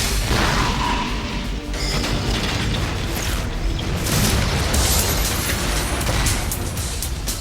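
Fireball explosions set off on the film set of Ballistic: Ecks vs. Sever (2002) roar as a loud, dense and continuous wall of booms and crashes for several seconds, with no talking.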